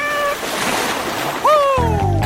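A cute cat gives a single drawn-out meow that rises and then falls, arriving near the end after a stretch of people talking over a busy background.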